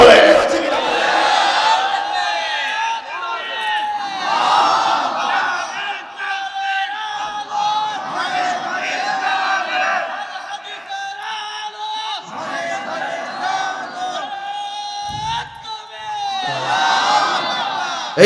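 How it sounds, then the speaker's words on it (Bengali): A large crowd chanting the Takbir, "Allahu Akbar", in repeated loud bursts of massed voices, rising and falling in waves, at a rally in Natore, Bangladesh. "এই নারায়ে তাকবীর আল্লাহু আকবার আওয়াজ, এটা 200 কোটি মুসলমানের জাতীয় স্লোগান"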